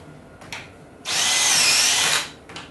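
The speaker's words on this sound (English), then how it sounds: "Then I'll continue to drill the rest of my holes on this side." A power drill drilling holes in a cabinet piece whirs at high speed for about a second, loud and close, framed by short clicks of the trigger and bit.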